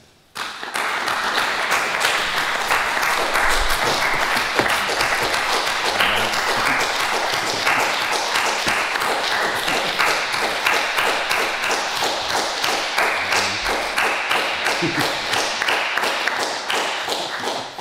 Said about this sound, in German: du hast es am Applaus gehört